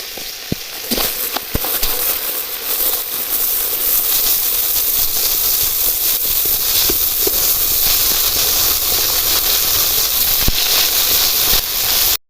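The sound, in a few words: snakehead fish frying in hot oil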